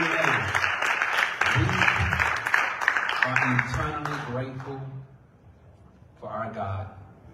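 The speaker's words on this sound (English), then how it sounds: "Give the Lord a hand clap of praise" Congregation at a church service clapping hands in praise, a continuous patter of many claps under a speaking voice that fades out, followed by more talking.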